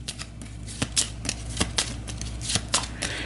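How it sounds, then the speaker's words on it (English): A deck of Aeon's End game cards is shuffled up close in a series of crisp riffling bursts and soft taps, repeating at a steady pace with no talking. "So we'll give this a shuffle."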